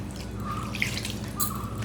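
Cold tap water trickles into wheat flour in a bowl for kneading dough, a steady close pour with a couple of small splashes and drips and no voices.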